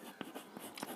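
Pen writing a math equation by hand on paper during a class 10 lesson, a few short scratchy strokes close and faint, in a quick uneven rhythm, no talk.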